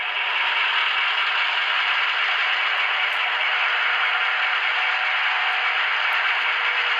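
An HO scale Walthers F7 diesel model locomotive's sound decoder plays prime mover notching, a steady droning engine rumble with mechanical whine held at an even, continuous level throughout, close and alone.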